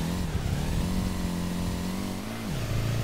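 A Nissan S15's engine revs hard while drifting in SLRR, a loud buzzy tone that wavers up and down, holds high, then drops sharply near the end as if shifting gear.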